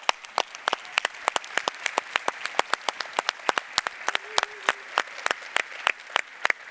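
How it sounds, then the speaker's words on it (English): Audience applause at a community keynote, a thin scattering of distinct individual claps with a few hands clapping at an uneven rhythm, fairly quiet and sparse throughout, with no speech. "join me giving them a big round of applause"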